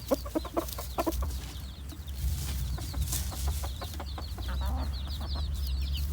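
A flock of chickens with a head rooster clucks in a busy, close chorus, short repeated clucks and calls over a steady low background hum, with no talk.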